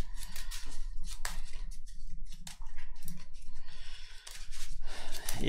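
A deck of KeyForge cards is shuffled close up, giving rapid repeated riffling flutters and soft snaps in uneven bursts, with no talk over them.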